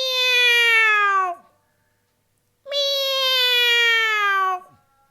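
A person imitates a cat meowing while holding the yoga cat pose in a kids' yoga session, two long, loud drawn-out meows separated by a brief silence.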